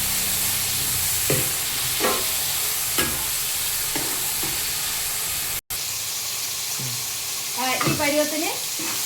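Tomatoes sautéing in a pan for a traditional sambar, a loud continuous sizzle with rhythmic scrapes and stirs of a spoon, close up and without speech.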